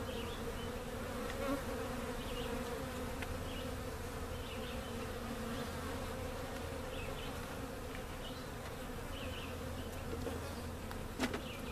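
Small honeybee swarm buzzing steadily and close, a dense continuous drone with occasional brighter whines of individual bees passing the microphone; no voices.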